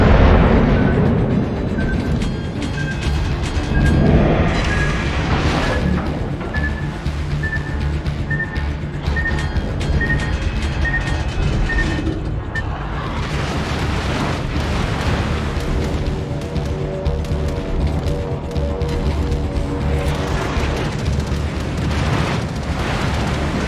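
Torpedo explosions hit a Roma battleship in a naval video game, with sustained heavy booming and rumbling rolling on loudly throughout, broken by repeated bursts and a faint tonal alert in the background.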